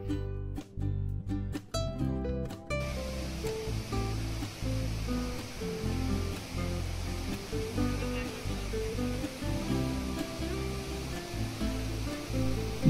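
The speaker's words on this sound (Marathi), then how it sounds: "भंडारदऱ्यातील प्रवरा नदीवर वसलेला महाकाय रंधा वॉटरफॉल" The huge Randha waterfall on the Pravara river at Bhandardara gives a constant, heavy roar of falling water that stays loud and unbroken throughout.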